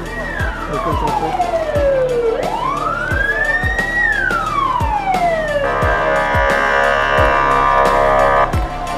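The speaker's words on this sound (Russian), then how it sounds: "Работала пожарная сигнализация." A loud fire alarm siren wails in a university dormitory during a fire drill, sweeping down and up in pitch over steady rhythmic pulses, then shifts to a harsh continuous alarm tone.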